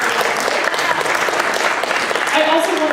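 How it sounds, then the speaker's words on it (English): Audience applause fills a room at a faith and feminism panel, steady dense clapping throughout with some cheering voices mixed in. "Give him a round of applause."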